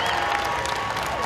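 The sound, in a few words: audience applause at Jungle Cruise premiere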